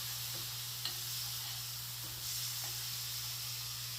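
Steady, soft sizzle of a simple tadka tempering in a pot with garlic-ginger paste and red chili, a low continuous hiss with a faint hum and a few small ticks, no talking.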